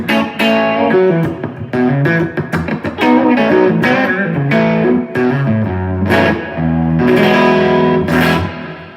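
Electric guitar on a Boss Katana amp's clean tone, a sparkly, slightly gritty sound, plays chords and picked notes loud and close, ringing with effects and reverb and no talk over it.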